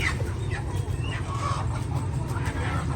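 Chickens at a morning market in Pakse, Champasak, Laos cluck in short, scattered bursts, fairly close, over a constant low hum of market noise and chatter.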